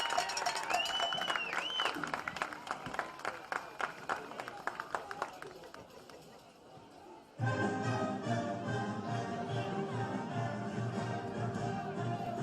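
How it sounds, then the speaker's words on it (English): Crowd applause for the class of 2022 seniors at a high school football game, dense clapping and cheering from the stands at a moderate distance, with voices and a whistle-like tone early, then a shift to steadier crowd noise. "A big round of applause for the class of 2022 football seniors."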